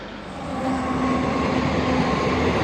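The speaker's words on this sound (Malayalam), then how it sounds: "ട്രെയിൻ ഇപ്പം വരും" A train rumbles steadily near Osian in the desert outside Jodhpur, growing louder and then holding a continuous heavy roar with a faint tonal hum, close by.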